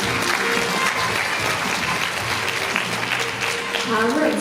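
A festival audience at the Pocheon world choir competition gives loud, continuous applause in thanks to the deputy mayor of Pocheon, dense clapping throughout with faint voices mixed in.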